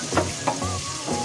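Tofu sisig ingredients get stirred in a hot pan: a soft sizzle runs under a few quick scraping strokes of a utensil, close by and with no voices.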